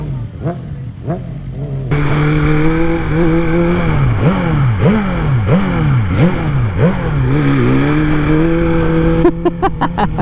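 A BMW M1000RR superbike engine revs hard in a series of rising, falling bursts during a wheelie, loud and close, with the throttle blipped repeatedly and sharp crackles near the end.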